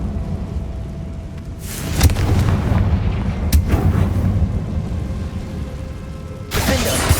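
Confringo fire spell from Hogwarts Legacy bursts in loud, booming blasts over a continuous roaring rumble, with sharp explosive hits and a final surge of crackling noise.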